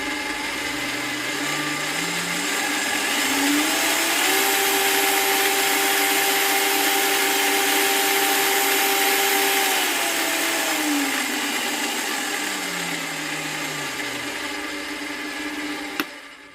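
A Parkside Scheppach DP60 electronic bench drill spins up in low gear, its motor whine climbing to a steady pitch, holding for several seconds, then winding back down; loud and close, no talk.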